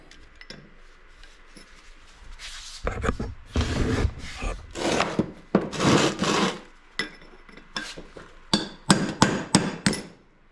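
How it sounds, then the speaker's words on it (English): A hammer strikes a punch to free a seized front wheel bearing part on a Suzuki SX4, making several loud metallic smacks in uneven bursts, followed by a quick run of sharper blows. "take a punch, and all you want to do is touch an edge of it and smack it, because what you want to do is try and free it"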